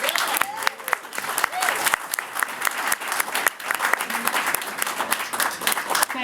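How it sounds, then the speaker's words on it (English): Audience applause at a culinary training school's tenth anniversary graduation ceremony, a dense round of clapping with sharp individual claps standing out, steady and fairly close throughout. "let's welcome Megan Kruger in a round of applause."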